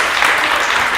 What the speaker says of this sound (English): Let's give women a round of applause.